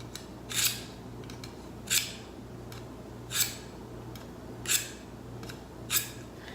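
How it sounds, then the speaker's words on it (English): A knife drawn through a small single-slot knife sharpener, five evenly spaced crisp scraping swipes about every second and a half, close and clear over a low steady hum. "just a little single knife sharpener. Slides right down into the slot and then draw it through a couple of times"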